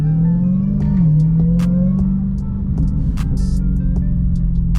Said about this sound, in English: Only thing that's supposed to whine in this car is a supercharger.